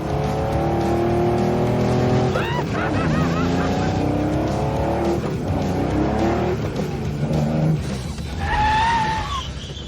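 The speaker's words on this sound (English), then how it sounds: "This car is fast, it's fun to drive, it handles like it's on rails." A fast sports car on a reality car-restoration show drives hard, its engine roaring and shifting pitch with brief tire squeals. The sound is loud and sustained, and a few voices are mixed in.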